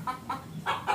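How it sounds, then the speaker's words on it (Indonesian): Chickens squawk and cluck in a series of four short, close bursts at a home around midday, loud and uneven with brief pauses between calls and no talk over them. "Jadi jam-jam segini tuh ayam mesti bengok-bengok"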